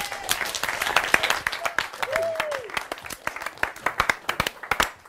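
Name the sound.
audience clapping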